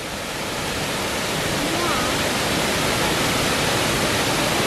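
Steady, dense roar of one of Germany's highest waterfalls, loud and continuous throughout, with faint voices barely audible beneath the rushing water.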